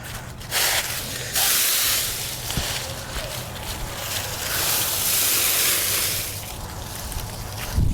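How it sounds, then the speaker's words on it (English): Strong gusty wind roars and buffets past, surging and easing in waves with broad hissing rush, loud and close, no voices. "It's a really windy day."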